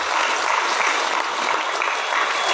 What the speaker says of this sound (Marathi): आपण त्याचं टाळ्या वाजून स्वागतही करूया